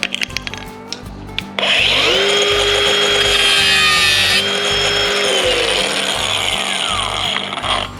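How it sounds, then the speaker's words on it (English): A cutting wheel grinds through metal on a utility trailer ramp, a loud continuous high whine that starts abruptly and holds steady, close up, over a rhythmic background thumping. "My plan is to take the bulk of this off with the cutting wheel"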